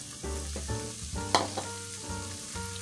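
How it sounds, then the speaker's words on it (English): Chopped onion sauteing in melted butter in a pan, a steady sizzle and bubbling with a sharp spatula clink partway through, close and alone without talk. "now I'm just going to add in the onion and I'm going to saute them"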